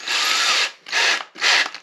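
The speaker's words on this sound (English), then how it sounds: "We just need to get a drill bit to make that hole a bit bigger." Power drill enlarging an existing bolt hole in a Nissan 350z rear light housing, running in three close, loud bursts of roughly half a second each with brief pauses between, no voices.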